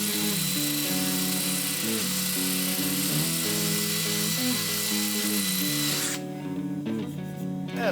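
A power drill spins a wire wheel to scrub a track bar clean during a bushing replacement, giving a loud, continuous whine whose pitch sags and recovers under load, with no talking.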